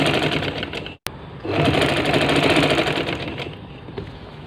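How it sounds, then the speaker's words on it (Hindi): Sewing machine stitching cotton bed sheet fabric: a loud, steady mechanical whir and rapid clatter, cutting out briefly near one second before running continuously again. "इधर सिलाई को जब शुरू करेंगे तो ज़रा पक्का कीजिएगा ताकि इसकी दागे ना निकले"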